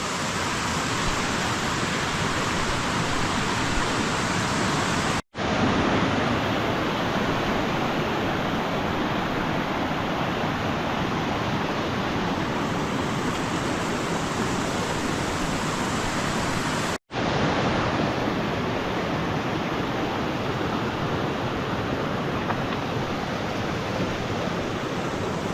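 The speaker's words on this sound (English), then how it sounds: "The water's flowing good, and it's going to get noisy for the next little while." Taylor Canyon's creek rushes loudly beside a hiking trail near Malans Peak, a constant broadband roar of flowing water that fills the whole scene, broken only by two brief dropouts.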